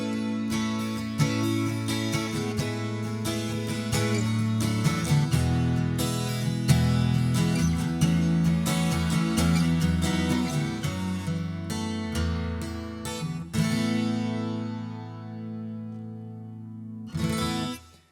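A Gibson Brian May SJ-200 12-string acoustic guitar plays a continuous, full, ringing passage of strummed and picked chords, loud and close with no voices, then a last chord fades before a brief strum at the very end.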